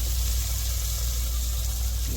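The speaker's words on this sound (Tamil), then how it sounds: "இப்போ தக்காளியை சேர்த்துக்கிடுவோம். நல்லா வதங்கிடணும்." Onions and tomatoes sautéing in a pan give off a steady, even sizzle over a constant low hum throughout, with no break.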